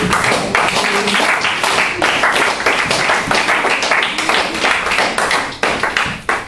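A church congregation claps loudly and steadily, dense overlapping applause filling the space for several seconds.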